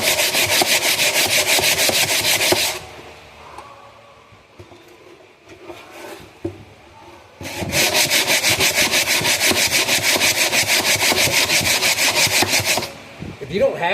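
Wooden cabinet sanded by hand in a back-and-forth pattern, a loud rhythmic scraping rasp in two long bursts separated by a quieter pause, close to the microphone.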